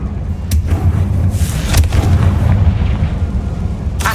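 The Confringo fire spell explodes in the Hogwarts Legacy video game, giving loud booming blasts with sharp cracks, one burst after another over a rumbling game soundscape.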